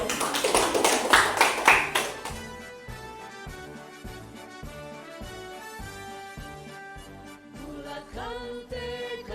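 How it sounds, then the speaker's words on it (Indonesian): A group claps together at the close of a junior high school session in Kelimutu, with a short burst of dense clapping at the start, followed by music with steady beats and a melodic line. "Sebelumnya tepuk tangan untuk kita semua dulu"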